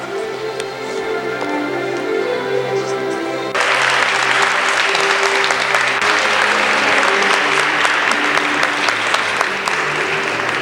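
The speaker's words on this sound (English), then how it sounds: "You may applaud number 56." An audience claps for a contestant at the 1995 Days of '47 pageant. Scattered claps swell abruptly into loud, sustained applause that carries on to the end.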